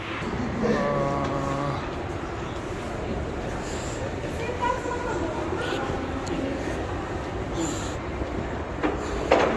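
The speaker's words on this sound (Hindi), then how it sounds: "चलो ये मेट्रो स्टेशन है।" A metro train rumbles and whooshes through a station with squealing wheels, while people talk nearby over the steady rail noise.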